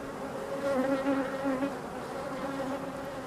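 Honey bees buzz steadily at a hive, a dense close drone with shifting harmonic tones that swell and ease over a few seconds, with no voices.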